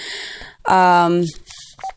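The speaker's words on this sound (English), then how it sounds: "we're gonna make another phone call really quick" A telephone is dialed during a radio show: a series of dialing tones comes through clearly, with a host's voice just before and short bits of talk after.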